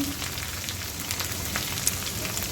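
Ginger garlic paste sautéing in a pan, a steady soft sizzle and crackle that runs evenly throughout with no voices.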